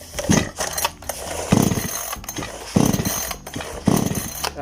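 Recoil starter of an Arto 5200 chainsaw pulled four times in a steady rhythm, each pull a close, ratcheting mechanical rasp with a low rattling burst; the engine never catches.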